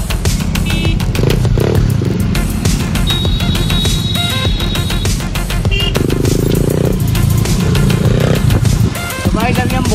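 A Splendor motorcycle being ridden at night, its engine droning steadily and loud throughout with close clatter and wind, while people talk over it.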